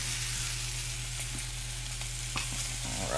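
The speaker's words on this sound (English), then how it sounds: "We're gonna let that side sear" Duck breasts wrapped in bacon with rosemary sear in a hot pan, giving a loud continuous sizzle and crackle with a few sharper pops, steady throughout and free of talk.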